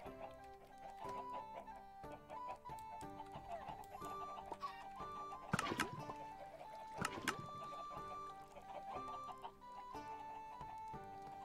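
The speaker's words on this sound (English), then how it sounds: "So I want to check out my other chicken." Chickens clucking in the Minecraft video game, steady layered clucks over a busy background of game sounds and music, with a couple of louder sharp bursts midway.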